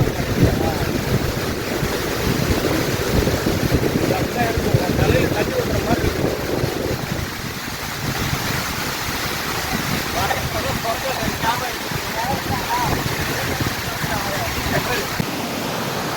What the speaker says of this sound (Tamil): இந்த அடர்ந்த காட்டுக்குள்ளே ஒரு சுற்றி மலை இதில் இவ்வளோ பெரிய ஃபால்ஸில் இந்த சாரல் மேலே